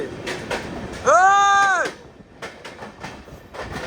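An Amrit Bharat Express train passes near Nellore with a loud horn-like tonal blast lasting under a second, amid rumbling rail noise and a voice talking over it.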